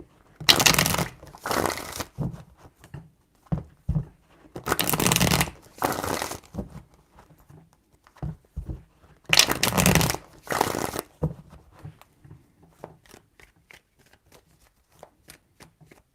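Tarot cards are shuffled in three bursts of crisp riffling, each lasting about a second or two, close up with quiet handling clicks between them and no talk.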